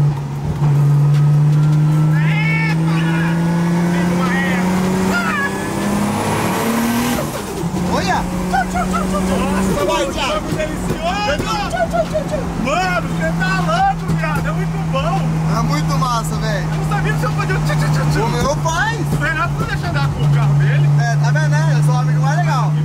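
A Nissan 350Z engine drones steadily under acceleration while being driven, with its pitch rising and then holding a constant low hum. Voices talk over it throughout the ride.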